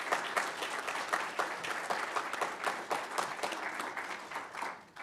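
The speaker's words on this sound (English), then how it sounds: "Let's give them a round of applause." An audience at a volunteer award ceremony gives a warm round of applause, with full, continuous clapping that holds steady and then begins to fade near the end.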